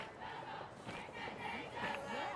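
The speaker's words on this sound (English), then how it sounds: "They have not stopped clapping and cheering Chuck this entire time." Softball game crowd at the LCU-LSUA Red River Rivalry clapping and cheering steadily, a distant, continuous wash of applause and shouts with no break.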